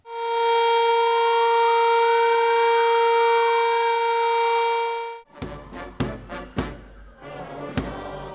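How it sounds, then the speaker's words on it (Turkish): Civil defense sirens sound at an Atatürk commemoration ceremony in Bursa: a loud, sustained, rising-and-falling wail for about five seconds, then an abrupt stop followed by scattered knocks and clatter. "Sirenler çalınca saygı duruşunda bulunuldu."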